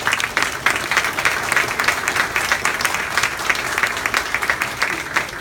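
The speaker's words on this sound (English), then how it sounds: "Give him another round of applause." An audience gives a young performer a round of applause, continuous crowd clapping at an even, sustained level from start to finish.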